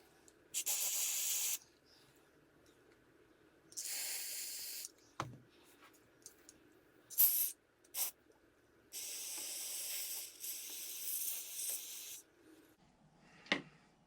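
Several bursts of carburetor cleaner spray hiss in short and long blasts into the carburetor of a Stihl MS 193 C chainsaw, separated by quiet gaps and a few clicks and handling noises nearby.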